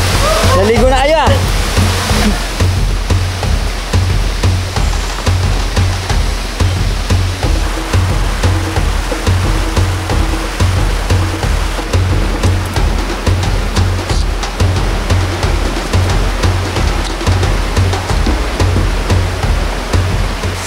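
Saob Waterfall in the Philippines sends out a loud, unbroken roar of rushing water close by, with a rhythmic low thumping running underneath throughout.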